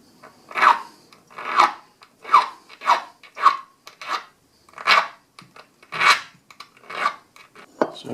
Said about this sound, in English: So I was just filing right about there